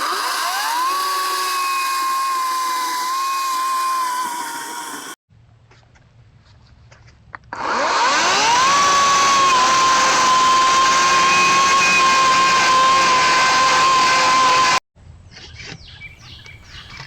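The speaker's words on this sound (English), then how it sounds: "So with a bunch of sawing, prying, and cutting, I make an opening" A high-pitched power saw whines in two long stretches, cutting through wood, with quieter pauses and scraping between them.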